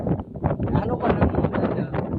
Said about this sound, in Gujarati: બહુ પવન અત્યારે તો બહુ પવન ઉડી ગયો.